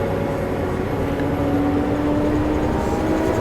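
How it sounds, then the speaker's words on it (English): Steady loud engine drone from a lime hauling truck throttled up while the PTO lifts the bed, a continuous low rumble with a faint rising whine running through it, close and unbroken. "Throw the PTO to raise, turn it on."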